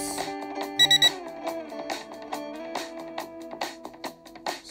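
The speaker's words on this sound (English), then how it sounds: "and higher level, which is 3 beeps." A drone gives three quick, loud beeps in a row to mark its higher speed level, followed by a sustained tonal hum with some faint clicks and noise.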